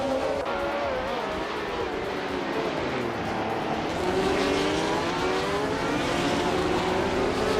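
Vintage racing cars, including a 1971 Ferrari 312 F2, roar away from the start at Circuit de Pau in a video game, engines droning and rising in pitch together as the pack accelerates, steady and loud with no talk.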